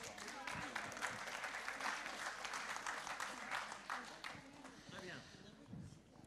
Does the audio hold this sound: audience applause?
yes